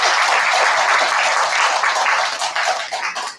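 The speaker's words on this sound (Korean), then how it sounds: "감사의 박수를 한번 좀 부탁드리겠습니다" Church congregation breaks into sustained applause of thanks, a dense, loud wash of clapping that holds steady before thinning out slightly at the end.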